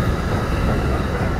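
Train running on the Saitama line, heard from inside the passenger carriage: a steady low rumble and rolling wheel noise that holds even throughout, with no voices.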